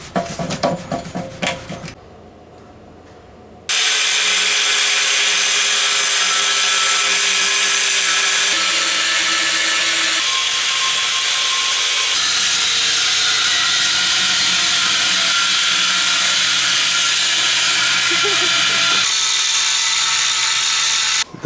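A power tool grinds and cuts through a car subframe during a Wisefab V2 suspension kit install, starting with brief sharp bursts, a short lull, then a long loud continuous whine with shifting pitch before stopping.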